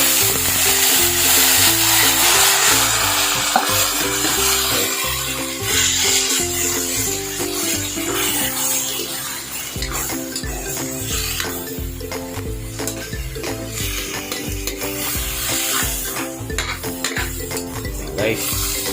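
Stingray pieces fry and get stirred in a pan with ginger, a constant close sizzle under repeated scraping and rubbing of the spatula against metal, going on at length without talk.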